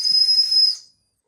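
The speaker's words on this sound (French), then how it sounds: "Un sifflet, ça peut toujours servir." A small titanium whistle gives one loud, steady, shrill blast lasting under a second, then cuts off to silence.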